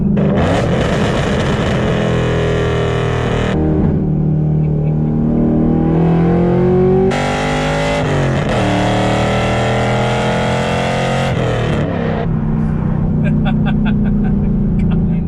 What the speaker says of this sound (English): that bombastic, exciting, and thrilling sound that you're gonna get with your straight pipe setup on your car